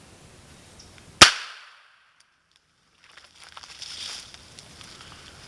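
A .442 Webley revolver fires a single sharp, loud shot into wood, with a quick decay into near silence, followed by faint rustling and handling noise.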